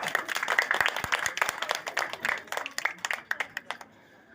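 A crowd applauding in a dense burst of clapping that thins out into a few scattered claps before stopping.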